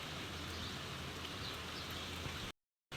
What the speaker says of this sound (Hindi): ये देखो कल से बारिश हो रही है हमारे यहाँ पे